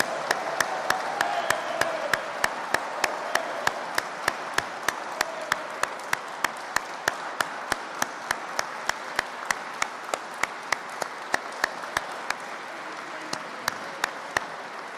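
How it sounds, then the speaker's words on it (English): An audience at a Massachusetts Veterans Day ceremony applauds a 98-year-old veteran, sustained crowd clapping with a few sharp distinct claps standing out, steady for the whole stretch. "we want to give him a round of applause"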